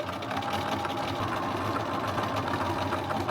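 A home sewing machine runs steadily and up close, stitching the crotch seam of shorts made from a bed sheet in one unbroken, even hum.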